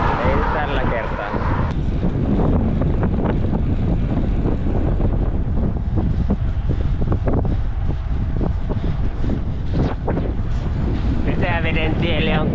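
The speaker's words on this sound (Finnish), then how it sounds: "Tuuli ei ole enää vastatuuli." Wind rushes across the microphone during an autumn bike ride on a road, a loud, constant buffeting roar through the whole clip, with gusts that rise and fall.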